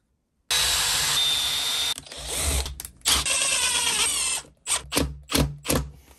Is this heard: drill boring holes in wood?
yes